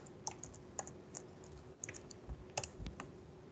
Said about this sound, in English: you won't be able to see this, but I'm actually typing the password.